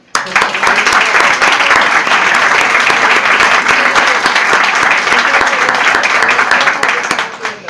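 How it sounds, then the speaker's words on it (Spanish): An audience at a conference talk on strange phenomena in official buildings breaks into loud, dense applause. It starts abruptly, holds steady and strong for about seven seconds, then tapers off briefly at the end. "creo que los divulgadores también se merecen un fuerte aplauso"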